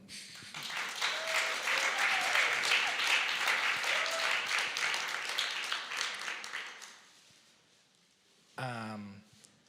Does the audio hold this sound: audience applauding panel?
yes